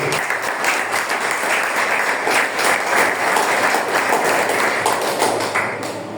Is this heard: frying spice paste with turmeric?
no